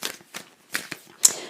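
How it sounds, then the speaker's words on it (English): A deck of cards is shuffled by hand during a card reading, four or five quick riffling bursts close up with brief pauses between, no voice over them. "the shuffling of the cards"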